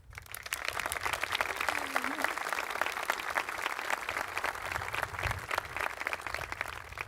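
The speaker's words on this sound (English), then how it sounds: "if you'll join me now in a round of applause" Applause at a high school commencement ceremony, a large crowd clapping steadily and densely for about seven seconds at an even level, heard from within the audience.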